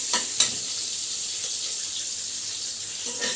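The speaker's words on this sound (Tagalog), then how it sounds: "Gisa-gisa lang." Pork spare ribs sautéed in a pan for sinigang, giving a constant bright frying hiss with a few brief clinks of utensils near the start and end.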